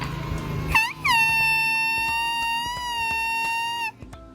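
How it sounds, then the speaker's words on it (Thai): A reedy, buzzing horn made from a coconut leaf is blown close by, starting with a couple of short wavering bleats, then holding one long, steady, nasal tone. "เป็นแตรจากใบมะพร้าวนะครับ"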